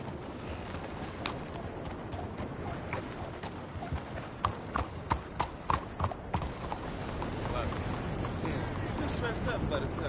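Horse hooves clip-clop in the video game Red Dead Redemption, a steady trotting rhythm running beneath spoken dialogue and ambient game sound, with a louder, clearer run of hoofbeats midway.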